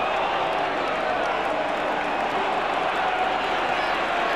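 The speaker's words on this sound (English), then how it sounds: "the crowd getting on to Ken Clark for the decision" Distant, steady crowd noise at the 1973 Varsity rugby match between Oxford and Cambridge, a low continuous murmur of spectators reacting to a referee's decision with no distinct shouts standing out.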